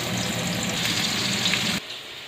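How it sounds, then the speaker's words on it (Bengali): Cut potatoes frying in mustard oil with turmeric and salt give a steady, close hiss and crackle that drops away abruptly near the end, with no voices. "কেটে ধুয়ে রাখা আলু দিয়ে দেবো,"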